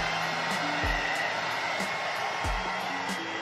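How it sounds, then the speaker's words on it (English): A Hot Tools hair dryer blows steadily close by while drying a hairline, a constant airy whoosh with faint handling bumps and no talking. "For the blow dry, I'm using this Hot Tools."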